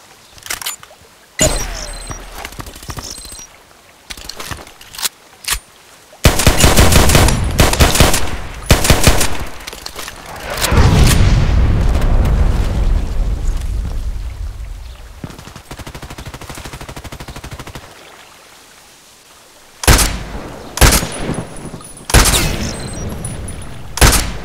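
Gunfire in the online shooter Contract Wars with a sniper carbine: loud bursts of automatic fire and single shots in clusters, separated by quieter pauses, with a long rumbling stretch in the middle and no talk.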